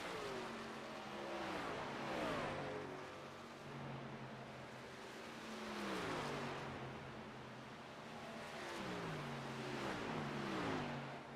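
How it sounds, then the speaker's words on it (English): Race truck engines roar in an iRacing video game race at Charlotte, several close engines droning steadily with repeated rising and falling pitch as the pack runs together, loud and continuous with no talk. "iRacing audio was disconnected, so hopefully we'll be able to hear some trucks now"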